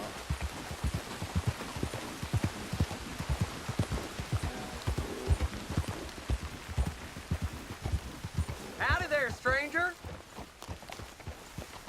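Horse hooves clip-clop at a steady walking pace in Red Dead Redemption 2, a soft, even rhythm that runs beneath a man's close, continuous talking.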